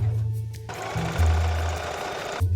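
A close sewing machine stitches Halloween costume fabric in a continuous buzzing run, with low motor tones shifting pitch as it speeds up and slows, and no talking.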